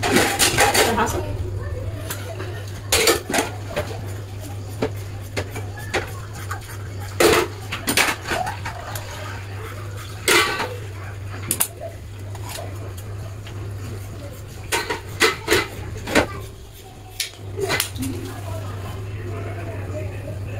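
Scissors cut trouser fabric on a work surface, giving irregular sharp snips and clicks over a steady low electrical hum.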